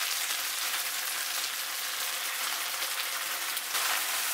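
Chicken and choy sum stir-frying in a hot pan, a steady dense hiss of sizzling oil held at an even level throughout, with no talk.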